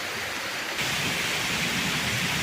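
Steady rain pours down in a hill forest, heard from shelter beneath a large tree as an even, dense hiss without pause.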